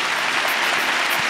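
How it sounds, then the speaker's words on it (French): Audience applauding panel speakers with a brief, dense burst of clapping from many hands, steady and fairly loud with no talking. "je pense qu'on peut remercier et applaudir nos intervenantes"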